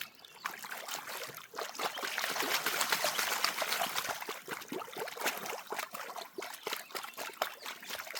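Water sloshes and swirls in a gold prospecting pan, a close, gentle run of trickling and splashing pulses that swell and ease in a loose rhythm, with no voices.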